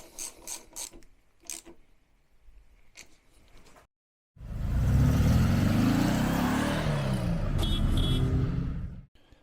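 A ratchet tightens the bolts of a brake slave cylinder on a VW Beetle's rear drum brake, first a few light clicks and taps, then a long loud rapid ratcheting burst close by.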